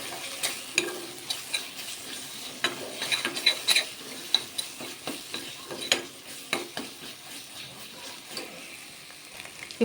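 A spatula stirs turmeric and salt into masala frying in oil for an ivy gourd curry, giving a soft sizzle under repeated light scrapes and taps on the pan, quiet and close, no voices.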